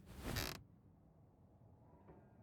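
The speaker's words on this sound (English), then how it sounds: "the door to your room swings open" A short, loud creak of a bedroom door swinging open in the horror video game Scarlet Hollow, lasting about half a second, then quiet room tone.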